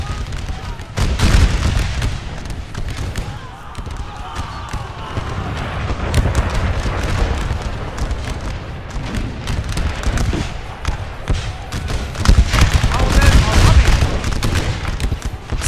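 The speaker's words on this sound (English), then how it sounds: "They're shooting them in the back as they run." Musket volleys in an American Civil War video game set in a large 4v4 multiplayer battle, with repeated sharp cracks and rolling gunfire bursts throughout, loud and dense, under continuous talk.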